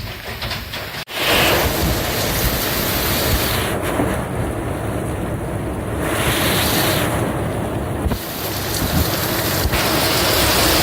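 A heavy rainy-season downpour in Gamboa pounds steadily on surfaces nearby, a loud dense roar of rain that holds throughout, with a few sharp cracks and surges in the wash.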